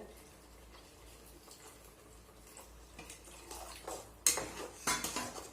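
Spoon scraping and clinking against a pot while stirring a tamarind-based medicinal curry (marunthu kuzhambu) after water is added; quiet, irregular scrapes build to a few sharper metallic knocks near the end, with no talk.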